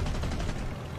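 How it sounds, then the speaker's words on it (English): Aircraft cannons firing in War Thunder, heard from the cockpit as a quick run of heavy, closely spaced thuds over a deep engine drone, loud and near throughout the short burst. "cannons"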